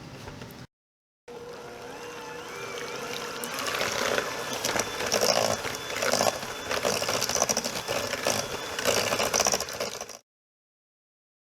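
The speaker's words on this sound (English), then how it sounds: "Now we're going to take our mixer." Electric mixer beating cookie dough with brown sugar for brown butter chocolate chip cookies, a steady whirring drone that swells and churns in louder pulses for about nine seconds before cutting off.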